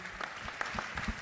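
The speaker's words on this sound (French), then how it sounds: "Mais on peut applaudir l'agence IS et Schneider Electric." An audience at an events-industry awards night applauds a winning agency, a brief, faint burst of clapping heard at a distance.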